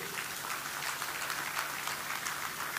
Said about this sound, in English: And I want to give a big applause to Mr. Mohan Suresh.